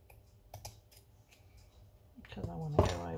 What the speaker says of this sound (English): just glue that down, cut that a little.